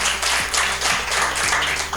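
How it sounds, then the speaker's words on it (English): Audience clapping for the people of Kasese at a Rwenzori Marathon stakeholder lunch, a loud sustained round of applause from many hands, fairly close and continuous with no talk over it. "Can we all clap for the people of Kasese?"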